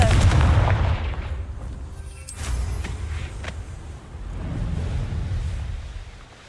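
An in-game blasting-spell explosion from Hogwarts Legacy bursts with a heavy low boom, then a rumbling crackle and a second swelling roar that fades out, loud and close.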